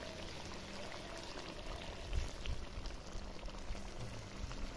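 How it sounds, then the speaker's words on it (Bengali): Water is poured into a pot of browned mutton curry, hissing and bubbling steadily and close, with a slight swell partway through and no talking. "এখন দিয়ে দেবো জল।"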